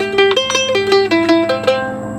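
A mandolin plays a fast bluegrass line, with staggered upstrokes giving bright, ringing notes in a quick, choppy rhythm, close and loud with no talking.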